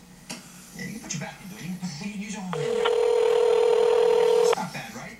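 A phone rings out unanswered with a single steady electronic ring tone lasting about two seconds, after someone talks over a quiet background.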